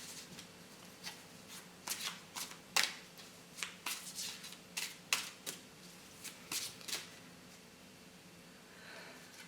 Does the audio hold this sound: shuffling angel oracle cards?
yes